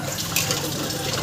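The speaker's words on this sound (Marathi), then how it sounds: "तांदूळ टाकले गरम पाण्यामध्ये" Uncooked rice poured into hot water in a pressure cooker for a spiced khichdi, giving a steady, close watery rush with a brief splash near the start.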